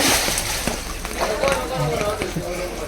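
Floodwater sloshes and splashes inside a room during heavy monsoon rain in Mumbai, the water knee-deep, a steady wet churning under frequent nearby talk.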